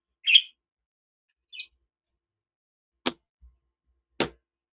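A single bird chirps twice, short high tweets spaced apart, followed by two sharp clicks or taps in otherwise near silence.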